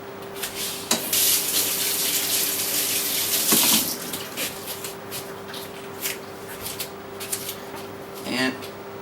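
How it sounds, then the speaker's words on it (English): Kitchen faucet running water into a sink, a steady close splashing stream that goes on throughout with a few clunks and brief bursts of louder flow. "The faucet."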